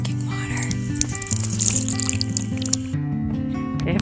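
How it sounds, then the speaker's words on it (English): Drinking water runs from a tap at a water stop on the Trans Catalina Trail, a steady trickle and splash alongside other steady tones, with no one talking. "Drinking water."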